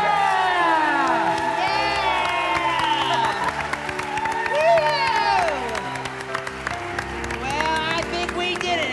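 A crowd at an awards gala claps and cheers, with whoops and children's shouts mixed in, while voices talk over the noise throughout.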